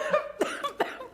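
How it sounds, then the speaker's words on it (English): A person coughs three times in quick succession while laughing, each short, voiced burst close to the microphone. "Laughing and coughing at the same time."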